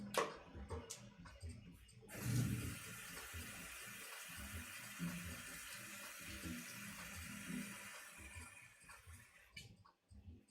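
Water running from a tap into a bottle, a steady hissing flow that starts after a few clicks and handling noises, carries on at a moderate level and then stops near the end.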